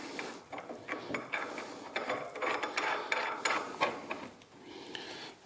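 Nuts are tightened by hand onto a woodworker's bench vise, giving a quick run of small metallic clicks and scrapes, close and fairly quiet, with no talking.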